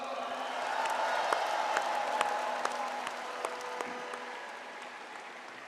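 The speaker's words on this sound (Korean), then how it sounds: "수고하신 두 분을 위해서 큰 박수 부탁드립니다" Sustained applause from a large audience at a Democratic Party of Korea convention, dense steady clapping with scattered louder claps and a few cheers, moderately distant and filling the hall throughout.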